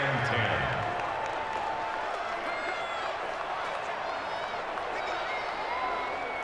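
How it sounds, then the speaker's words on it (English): A stadium crowd roars and cheers in a Madden NFL video game ahead of a big third down in a Dolphins–Giants matchup, a steady wash of noise under a commentator's talk. "the crowd getting into it as we come up on a big 3rd down"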